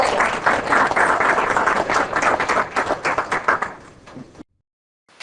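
Audience applause after a parenting styles talk, a dense wash of many hands clapping at steady loudness for about four seconds, then cutting off abruptly into silence.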